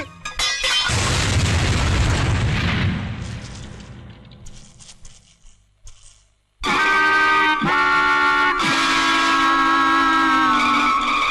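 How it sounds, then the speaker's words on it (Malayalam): A bomb blast erupts in a loud, close roar that rumbles and slowly fades to near silence, after which music abruptly begins. "അയ്യോ ബോംബ്."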